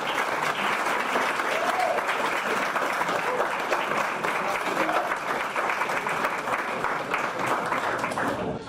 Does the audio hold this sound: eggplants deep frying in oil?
no